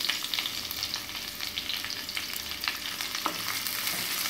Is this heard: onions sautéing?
yes